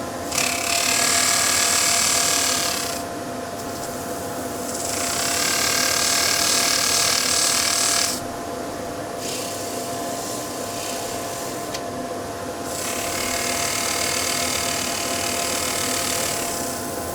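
Rotary sander working a glued pin-striped wooden bowl, a high whirring hiss running in long bursts with quieter pauses between, close and steady, no talk.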